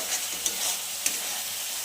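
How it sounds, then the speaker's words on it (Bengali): Chicken sizzles in a pan for chicken chana masala while being stirred, a steady hiss with a few sharp scraping clacks of the spoon, close and alone with no talk. "আমি সুন্দর করে চিকেনটা কষাতে লাগছি"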